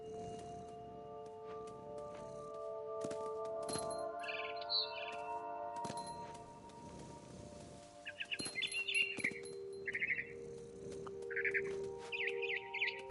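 A bird chirps in short, bright bursts over a steady ambient drone and wind-like background in the video game What Remains of Edith Finch, the calls coming in irregular clusters, fairly faint.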